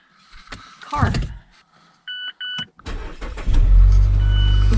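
An SUV's engine cranks and catches near the end, settling into a loud, steady idle after a few clicks, door or handling knocks, and two short electronic beeps.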